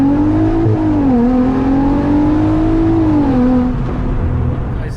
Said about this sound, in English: First gear pull while standing start in an R36 with a little bit of a rollout.